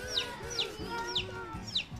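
Baby chicks peep in high, sharp chirps, four distinct calls spaced evenly over a lower clucking hen-like murmur, close by with no talking.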